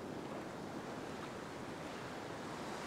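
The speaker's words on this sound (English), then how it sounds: "I'm gonna wait for a little break in between these tiny little waves" Small ocean waves break gently on a beach, giving a soft, continuous wash of surf with some wind noise, faint and steady throughout.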